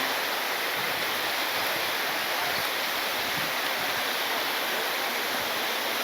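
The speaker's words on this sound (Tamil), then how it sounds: "அந்த ஃபால்ஸுக்கு வந்தாச்சு" Keralamkundu waterfall pours in a loud, constant roaring rush of water, steady and close, with no talk over it.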